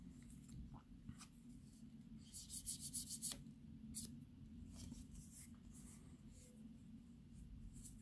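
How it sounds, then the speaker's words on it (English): A surface is roughened by hand for better adhesion of the next layer while a crossbody purse is being made, giving faint, brief scratchy rubs over a low background hum. "I'll have to roughen it for the next layer for the adherence."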